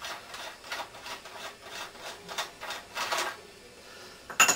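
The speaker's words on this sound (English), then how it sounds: "it's very easy to just unscrew the flash hider" Flash hider being unscrewed from an SRC XM8 airsoft rifle, a run of short scraping, rubbing rasps in a steady rhythm, close up and fairly quiet, ending with a sharper click.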